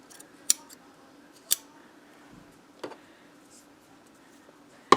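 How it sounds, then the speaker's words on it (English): Scissors trim excess fabric from a thermal camo shirt in a quiet room, with a few crisp separate snips spaced about a second or more apart and a louder cut at the very end. "And then just trim that excess off."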